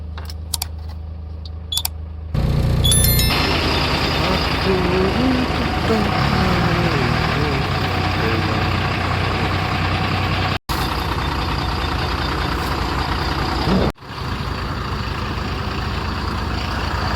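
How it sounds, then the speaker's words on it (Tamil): A truck starts up with a loud burst and settles into a heavy, steady engine drone that runs close and continuous, with brief dropouts, on a dangerous single-lane road. "வண்டி ஸ்டார்ட் பண்ணி விட்டோன்னா வேக்கம் ஏறிகிட்டு இருக்கோம்"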